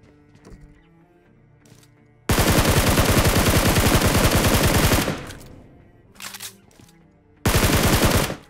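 Rapid automatic gunfire in a shooting video game, two loud sustained bursts of fast shots close up, separated by a short gap with a few quieter sounds, and no talk.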